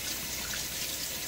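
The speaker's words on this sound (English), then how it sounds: "another 1/2 teaspoon of water." About half a teaspoon of water poured onto shaving soap in a tub makes a soft, faint trickle and hiss that lasts around a second, with no one speaking.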